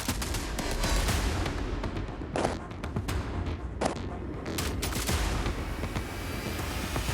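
Rapid bursts of gunfire crack in quick succession during a combat assault near Avdiivka, Ukraine, some distant and some closer, forming a dense, continuous rattle of shots outdoors.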